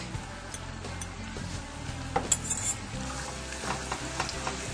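Red chili flakes and garlic sizzle in melted butter in a pan, a close, fairly quiet and steady frying hiss broken by a few stirring clinks and scrapes, with no one talking.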